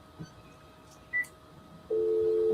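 An old-school landline telephone gives a faint tap and a brief dial beep, then a steady continuous tone starts and holds loud over low background hiss.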